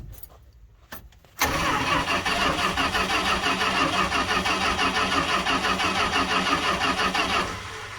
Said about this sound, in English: We're gonna crank it until we get fuel to the carburetor